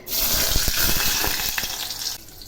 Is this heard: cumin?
yes